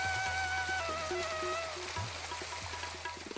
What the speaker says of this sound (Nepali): दिन बित्दै गए तर वर्षा रोकिएन।